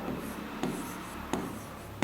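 Writing on a board during a Class 12 English grammar lesson makes three quiet, short scraping strokes spaced evenly over a faint room hiss, with no one speaking.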